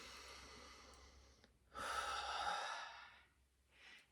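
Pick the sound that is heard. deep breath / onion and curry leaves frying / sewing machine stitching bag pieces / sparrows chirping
deep breath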